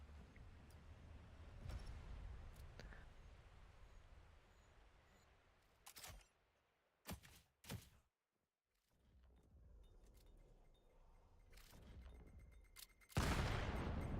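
Grenade explosions and bursts of gunfire ring out in the VR shooter game Vail, sharp loud blasts separated by quieter gaps over a low background rumble.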